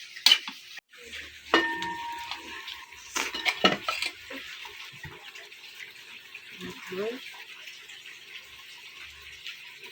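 A utensil scrapes and clinks against a frying pan while long beans and banana blossom are stirred, over a faint sizzle, with irregular knocks and pauses.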